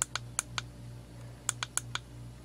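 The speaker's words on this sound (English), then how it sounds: "And now if you double click" Flashlight button clicked twice in quick succession, sharp close clicks in two pairs over a steady low electrical hum, no talk.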